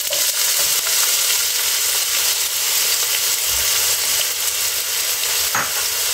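Onion sautéing in hot oil in a home kitchen, a steady close sizzle and crackle with occasional stirring scrapes, running continuously with no talk.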